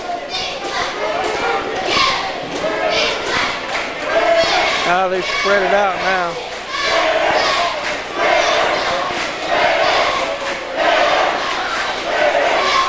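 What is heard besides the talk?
crowd cheering at a high school basketball game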